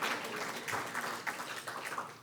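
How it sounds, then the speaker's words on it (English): An audience at a poetry event applauds, a dense, steady patter of many hands clapping together, filling the room without a break. "Honestly, applaud yourself."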